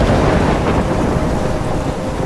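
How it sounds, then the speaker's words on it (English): A heavy storm in the video game Life is Strange: dense roaring rain and wind with a continuous low rumble of thunder, loud and unbroken throughout. "I'm trapped in a storm?"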